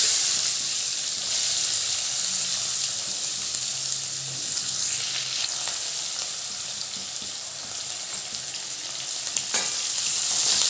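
Onions frying in a hot red chilli and asafoetida tempering, a loud, even hiss of oil close up with occasional faint stirring scrapes, no voices.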